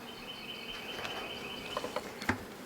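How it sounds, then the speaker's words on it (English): Many honey bees crowd the top of an opened hive, making a faint, continuous hum with a few soft clicks and taps near the end. "A lot of bees up top"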